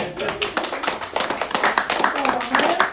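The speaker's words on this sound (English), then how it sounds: "Give Owen a round of applause" An audience claps for a man named Owen, a short burst of close, uneven hand claps from a small group, with a voice speaking over it.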